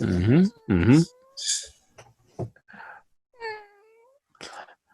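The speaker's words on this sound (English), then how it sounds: "Is that a Siamese cat?" Loud, drawn-out meows from a Siamese cat come first, then quieter scattered calls and short noises follow with pauses between them.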